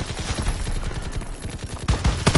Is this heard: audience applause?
no